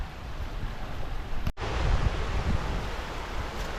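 River water flowing out of a reservoir below a dam wall, a steady broadband rush beside a footpath, with a brief dropout partway through before the continuous flow resumes.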